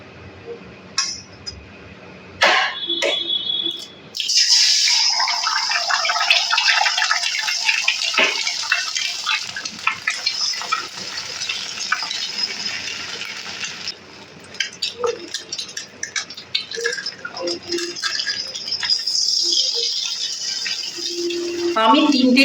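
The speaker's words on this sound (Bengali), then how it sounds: "এখন কড়াইয়ের মধ্যে আমি আরও একটুখানি তেল দিয়ে দিব এর মধ্যে আমি ডিম ফাটিয়ে দেব" An egg is cracked into hot oil in a wok: a few sharp taps and clinks, then a sudden bright, loud sizzle that keeps hissing steadily, with occasional utensil clatter.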